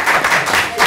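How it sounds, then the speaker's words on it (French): A brief burst of dense audience applause at a political gathering at the Fête de l'Humanité, steady and fairly close with no voices over it. "on les applaudit pour les encourager"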